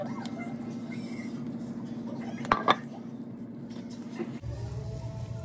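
Potatoes tossed with oil, salt and black pepper in a bowl give a steady low scraping and shuffling, with a couple of sharp clinks against the bowl partway through, close and fairly quiet.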